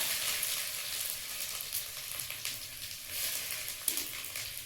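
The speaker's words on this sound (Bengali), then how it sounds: "ফোড়নে দেব শুকনো লঙ্কা, হ্যাঁ, দুটো তেজপাতা, গোটা জিরে, আদা কোড়া" Dry chillies, bay leaves, cumin and ginger sizzle in hot oil, a steady close hissing fry with faint crackles and a small clink near the end, no voices.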